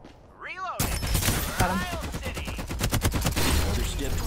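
Rapid, loud bursts of gunfire crack through a battle royale-style video game match, a sniper rifle among them, with repeated sharp shots and fusillades filling the scene under game effects.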